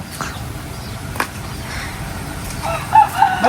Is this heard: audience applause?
no